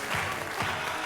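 A TV quiz show studio audience claps briefly, a short, close burst of dense applause with a few rhythmic swells.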